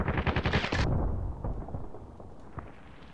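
A grenade goes off in the shooter game Contract Wars: a loud, rattling blast for under a second, then a fading rumble with a few faint distant cracks.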